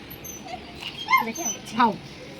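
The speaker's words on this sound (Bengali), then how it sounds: "আমার কুকুর" A dog gives a couple of short, high whimpering yips close by, with soft background noise between them.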